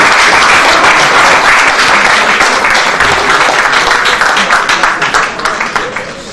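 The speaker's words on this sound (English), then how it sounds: "A round of applause again for Professor Adeyemi" Audience applause for a speaker at a school event, a dense, loud burst of clapping that holds steady, then thins and fades in the final seconds, with a few voices mixed in.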